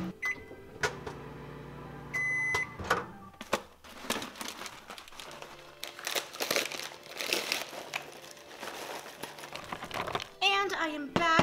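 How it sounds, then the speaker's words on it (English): Irregular pops and crackles of microwave popcorn, slightly burning, burst out over a steady low hum of a running microwave oven, with some rustling and a few beeps. "I'm just gonna go ahead and make some microwave popcorn"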